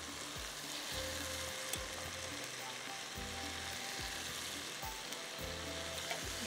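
Pieces of fish frying in hot oil with fenugreek seeds give a steady, close sizzle, with soft stirring scrapes along the way and no talking.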